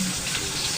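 Green chillies hit a hot frying pan for a fasting-style dry root vegetable dish, giving a brief, close, steady sizzle that holds without a break.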